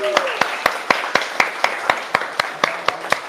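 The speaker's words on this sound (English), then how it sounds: "can we get another hand of applause for all the amazing singers on here?" Hands clap for a group of singers in a steady, regularly spaced beat, sounding like one or a few people rather than a large crowd, with voices talking underneath.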